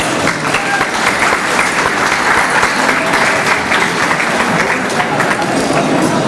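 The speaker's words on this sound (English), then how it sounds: "Let's give her a round of applause." Loud, dense applause from an audience at a speech event, sustained and steady throughout as a crowd honors Gina Yang.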